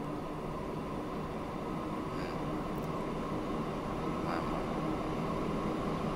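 A crude oil freight train in the Transport Fever game rumbles steadily, with a faint clatter now and then over the constant low roar of rail traffic.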